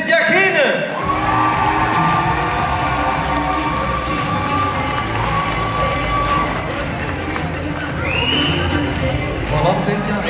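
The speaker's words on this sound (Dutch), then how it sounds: "Uw warm applaus voor Cynthia Geene" A studio audience at the final of a Flemish farm-woman contest cheers and applauds loudly and continuously, with whoops and shouts rising from the crowd throughout.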